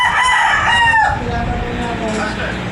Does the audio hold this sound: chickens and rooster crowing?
yes